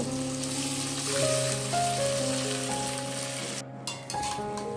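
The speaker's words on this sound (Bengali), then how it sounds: "এবারে আমরা এর মধ্যে ম্যারিনেট করে রাখা চিকেনটা দিয়ে দেব" Marinated chicken dropped into sizzling fried tomato masala for chicken kosha, a steady wet sizzle under a sustained background tone, with a short stir and clatter near the end.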